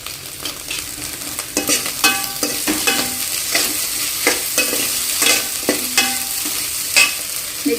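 Curry leaves hit hot oil for egg fried rice, crackling and spitting in loud bursts, with repeated scrapes and clatters from stirring, close up and without talk.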